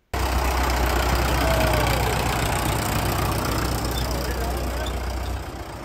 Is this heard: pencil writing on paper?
no